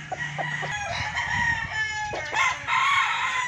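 Boston Millionaire gamefowl broodstag crows on a game farm, loud and close, with repeated harsh crowing calls and clucks from other fowl around it.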